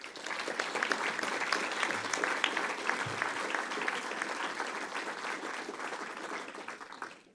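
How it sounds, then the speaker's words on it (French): An audience applauds at a French New Year's greetings speech event, a loud, sustained wash of many hands clapping that holds steady for several seconds before easing off at the end. "que je vous demanderai d'applaudir"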